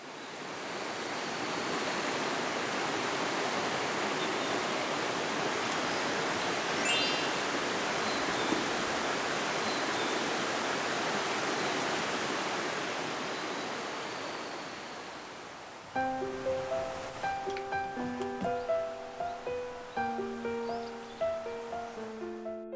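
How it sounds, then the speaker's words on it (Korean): Steady rushing water flows for about fifteen seconds, like a stream or surf, then soft bell-like chimes take over with faint water beneath. "지금부터 물소리에 집중을 한번 해보세요."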